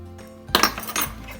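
Spicy honey butter being mixed in a bowl with a utensil, giving a few sharp clinks and scrapes against the bowl, near and fairly loud, with no talking.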